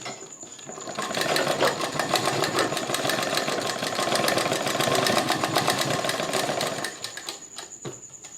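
An electric sewing machine stitches cord piping in a steady, loud continuous whir for about six seconds, then slows and stops, leaving a brief quiet tail with a small click near the end.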